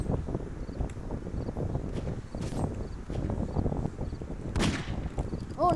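Gunshots from the Roblox game Murderers and Sheriffs sound as a couple of sharp, separate cracks over a busy, rumbling game soundscape.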